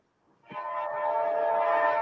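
A train horn sounds nearby, rising from quiet to a loud sustained chord that holds steady as the train approaches.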